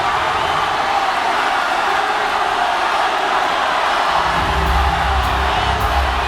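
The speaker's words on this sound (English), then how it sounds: "look at Chris Thomas engaging the crowd" A basketball arena crowd at a 2016-2017 ASEAN Basketball League game roars in a loud, continuous wash of cheering, swelling with deeper rumble near the end.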